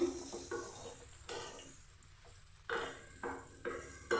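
Chopped onion and slit green chilies frying in a pan are stirred with a spatula, making a steady sizzle broken by repeated scraping strokes at an irregular pace, close and clear with no voices.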